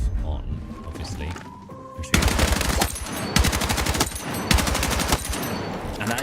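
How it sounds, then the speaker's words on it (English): A carbine fires in rapid bursts in Battlefield 6, a loud, fast rattle of shots in several strings after a quieter opening with game tones and faint sounds. "now I'm going to show you this carbine that I have on"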